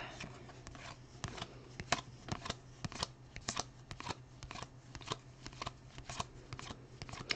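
Trading cards being handled and sorted through in quantity, with repeated crisp flicks and riffling shuffles at close range over a steady low hum, no voices.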